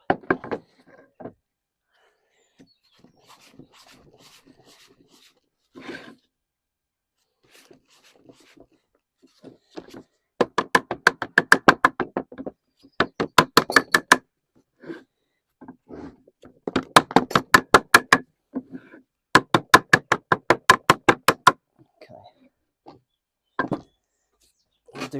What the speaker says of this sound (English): What I'll do now is just knock up that little tag there, ready for welding.